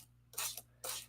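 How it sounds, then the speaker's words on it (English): Two short hissing bursts from a spray bottle misting water onto watercolor paint during a craft demonstration, each lasting about a quarter second with a brief pause between them, close and fairly loud with no talk. "Now I'm going to go ahead and spray it."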